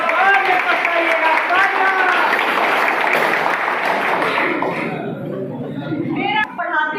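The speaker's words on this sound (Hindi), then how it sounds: "हमारे स्टार कलाकारों के लिए तालियां बजाइएगा" Audience at a convocation ceremony at KMC Language University clapping for star performers, with steady, loud applause mixed with crowd chatter and voices, thinning and quieting toward the end.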